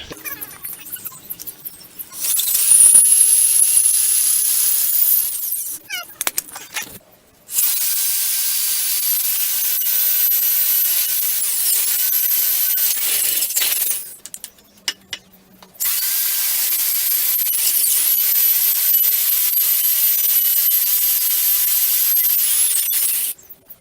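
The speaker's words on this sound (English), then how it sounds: "I'm going to take a big old tenon bit, making some pegs." A large tenon bit cuts wooden pegs for a rustic log mirror frame, a loud steady whirring grind in long runs broken by short pauses when the tool stops.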